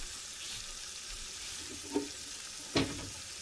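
Curry shrimp with potato and okra sizzles faintly in a pan as vegetables are added, a steady hiss with two brief clattering stirs.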